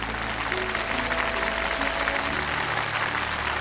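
Studio audience applause on a television set, a steady wash of clapping over a low hum, with a faint musical tone beneath it.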